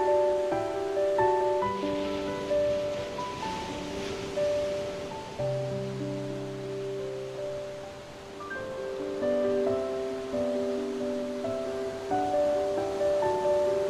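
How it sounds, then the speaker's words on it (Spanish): Ocean waves wash steadily onshore as a soft, continuous surf hiss beneath prominent sustained musical tones, part of a calm guided meditation for children. "También puedes escuchar el mar, el sonido de las olas."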